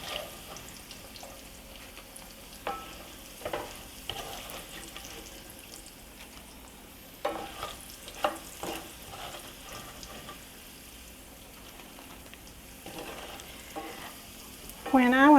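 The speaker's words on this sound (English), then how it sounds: "And then I'm going to fry up my winnies and put my kraut in." Smoked sausage and sauerkraut fry in oil in a single pot, a steady close sizzle broken by scraping stirs and light clanks, with a sharper burst of sizzle at the very end.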